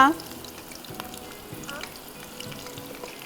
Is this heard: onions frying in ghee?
yes